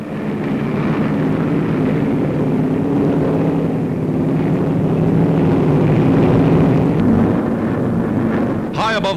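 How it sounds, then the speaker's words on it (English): WWII P-40 fighter planes take off from jungle airstrips in Australia and fly overhead, a loud, sustained engine roar lasting throughout with no break. "Taking off from runways hewn from the jungle, they roar aloft"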